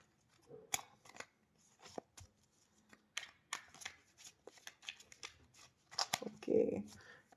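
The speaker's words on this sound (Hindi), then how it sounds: "जब मैं शफल कर रहा हूं" Tarot cards being shuffled by hand produce close, crisp riffling and slapping bursts in an irregular rhythm, with a voice talking quietly over part of it.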